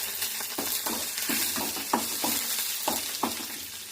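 Curry leaves, mustard seeds and cumin crackle and sizzle in hot oil, with a steady frying hiss broken by sharp pops and spits at irregular intervals.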